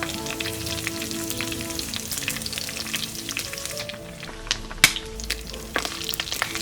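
Mustard seeds, rampe and curry leaves fry in hot oil for a soursop curry, a steady close sizzle with scattered crackles and pops, one sharper crack partway through.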